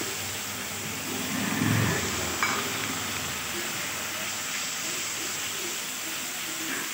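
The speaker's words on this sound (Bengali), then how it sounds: "এবার এই মশলাটা ভালোভাবে কষে নিতে হবে পেঁয়াজটার সাথে।" Spice paste sizzling and frying with onions in a pan for a village-style goat meat curry, a steady broadband hiss with a brief louder stirring scrape near the start.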